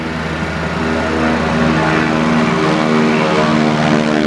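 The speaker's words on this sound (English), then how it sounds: "Let's tuck everything in so we get this airplane off the ground in the shortest period of time." A propeller airplane with its smoke system on roars steadily and loudly through its takeoff run at an air show at Daytona Beach, with a droning engine tone held throughout and no voices.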